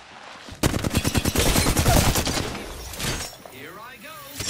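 Rapid automatic gunfire rattles in a fast-paced shooter video game, one loud sustained burst of closely spaced shots lasting about two seconds before cutting off into quieter game sounds.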